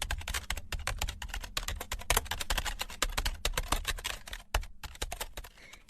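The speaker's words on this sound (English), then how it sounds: "Simon quickly read the journalist's article about the new film and then typed as fast as he could." Rapid, continuous typing on a computer keyboard, dense clattering keystrokes close up with brief pauses, no voices.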